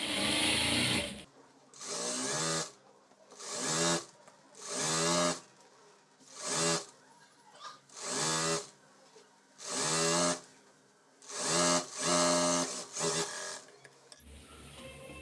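A sewing machine stitches the sleeve of a nighty in repeated loud bursts of rapid whirring, each lasting about a second, separated by short pauses when the machine stops.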